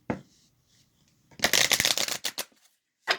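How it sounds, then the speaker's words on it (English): Tarot cards riffled in a brisk shuffle: a short faint flutter, then a loud dense burst of card slaps lasting about a second, tailing off, with one more quick riffle at the end. "Let me give it a shuffle."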